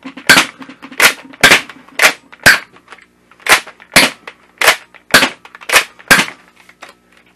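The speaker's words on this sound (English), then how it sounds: "They both are a rear pull and fire your six shots" A Nerf Blitz 6 and a Reflex 6 blaster firing in quick succession, around a dozen sharp, loud, close pops with short pauses between them, each shot followed by a brief mechanical rattle.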